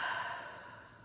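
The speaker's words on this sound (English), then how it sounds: "Out through the mouth." A single breath exhaled through the mouth during a guided breathing exercise, a soft airy rush that starts strongest and slowly fades over about a second, quiet and close with no voices.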